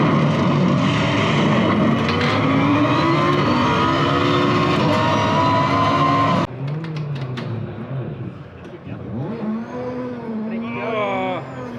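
Racing cars at a custom motor show roar at high revs with sustained, loud engine noise that drops and shifts near the middle as another engine note rises and falls, with some crowd or voice sound underneath.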